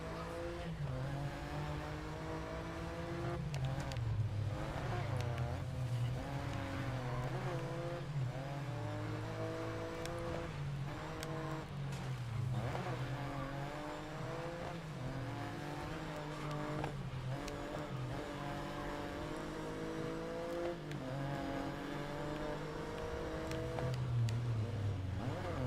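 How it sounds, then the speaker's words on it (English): Old Formula 1 race cars racing in a video game, a continuous high engine whine with rapidly rising and falling revs from gear changes, joined by tire squeals and skids, loud and without talk. "I love how they only have like these old ass F1 cars."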